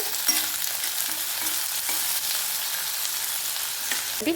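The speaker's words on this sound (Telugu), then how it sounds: "అట్లే పచ్చిమిరపకాయలు, తర్వాత వచ్చి కరివేపాకు మొత్తం వేసేద్దాము. కొంచెంసేపు వేపుకుందాము." Green chilies and curry leaves fry in a hot pan of oil, a steady close crackling sizzle with a few sharper pops and light stirring scrapes, no voices.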